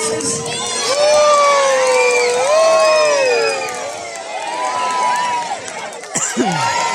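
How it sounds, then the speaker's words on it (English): A crowd of children at a sea lion show cheers and whoops loudly for several seconds, fading briefly before another burst of shouting. "we're going to give him a cheer each time he jumps out of the water"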